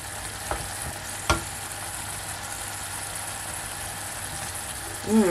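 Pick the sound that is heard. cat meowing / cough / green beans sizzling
green beans sizzling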